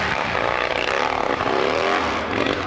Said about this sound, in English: Still has a breakup in that engine.